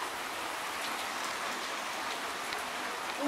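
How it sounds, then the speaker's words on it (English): Heavy rain pours down on a December morning, a steady, dense hiss of drops close by with no voices. "Lots and lots of rain happening."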